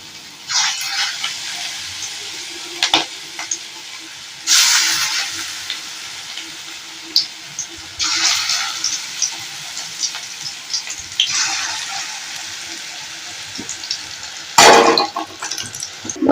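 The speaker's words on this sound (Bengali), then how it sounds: "এইভাবে করে সবকটা পকোড়া ভাজি করে নেব।" Cabbage pakoras deep fry in hot oil with a soft, steady sizzle, broken by several louder bursts of bubbling and clattering as pieces are turned and lifted out.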